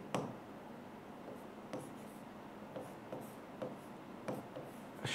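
Chalk or marker scratching across a board in a physics lecture on vectors, several short strokes with brief pauses between them, faint and close, with no voices.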